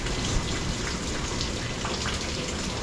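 Heavy rain pours down steadily near rice paddies, a dense, unbroken hiss of drops drumming on surfaces throughout, loud and close with no talking.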